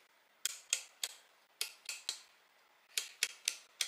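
Crisp, dry clicks from adjusting the grind setting on a Comandante manual coffee grinder, sharp ratchet ticks in quick pairs and small clusters, close and fairly quiet with no talking.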